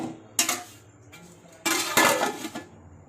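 Metal clatter as a lid is set on a pot of fish pulusu curry, with a sharp clank followed by a longer rattling clink of lid against pot, close and distinct.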